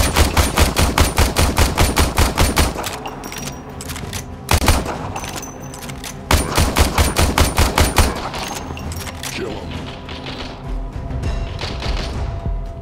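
Rapid automatic gunfire and bursts of shots in the Warframe video game, loud and dense with repeated volleys and short pauses between them.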